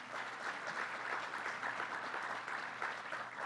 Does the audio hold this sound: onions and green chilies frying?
no